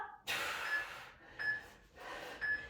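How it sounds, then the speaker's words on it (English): Forceful breaths pushed out during push-ups in a kettlebell and bodyweight workout, three close, audible exhales, the first longest, then two shorter puffs, with no speech. "Exhale on the push up."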